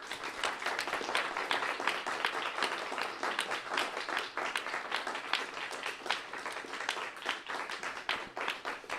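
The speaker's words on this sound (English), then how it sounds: "I'd like to give a round of applause to our speakers" An audience applauds after speakers at a talk on imperialism, dense sustained clapping from many hands filling the room at moderate distance, with no speech over it.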